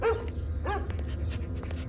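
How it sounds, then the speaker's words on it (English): A dog barks two or three times, short yips fairly close but not loud, with a quiet low hum between barks. "You can stream it while you walk the dog."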